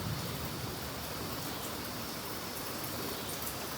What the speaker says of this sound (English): Oh, the rain is really picking up.